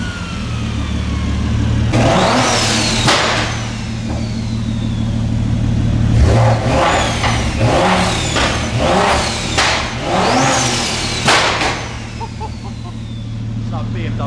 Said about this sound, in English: you can hear the turbo spool as well